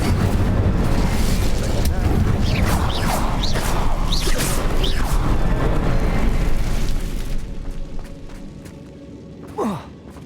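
Incendio fire spell cast repeatedly in Hogwarts Legacy, inside a mine: a roaring, crackling fiery blast with rising whooshes, loud and sustained, then fading to a quieter rumble with one last brief swoosh near the end.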